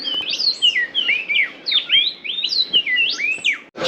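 Birds chirping at Machu Picchu, Peru, a lively run of close, loud, rapid twittering calls, several overlapping, with no talk.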